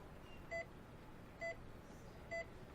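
Three evenly spaced electronic beeps mark a phone call disconnecting, each short tone clear and identical, sounding at a regular rhythm over a faint background hiss.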